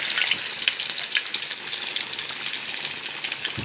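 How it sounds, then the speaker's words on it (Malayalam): Onions sizzle and fry in a pan for a Kerala-style mackerel fish curry, giving a steady, bright crackling hiss with small pops, close and continuous throughout. "ഉള്ളി മൂത്ത് വരുന്നു"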